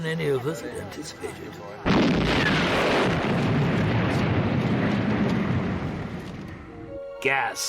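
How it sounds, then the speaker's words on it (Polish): A sudden, powerful gas explosion blasts and roars for several seconds before fading, with voices heard briefly before and after. "To był wybuch gazu. Wysadził pół domu Gordona."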